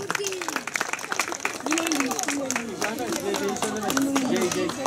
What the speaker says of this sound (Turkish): Tekrar onlara büyük bir alkış diyorum.